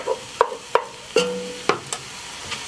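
Onion and pork searing in a Dutch oven, with a soft sizzle broken by a series of close, sharp clinks and scrapes of a utensil stirring against the pot, spaced irregularly with no talking.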